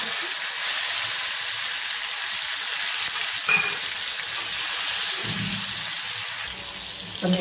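Mustard seeds, cumin and a pinch of asafoetida crackle in hot oil, a close, continuous sizzling hiss with faint spluttering, for a raw papaya olo.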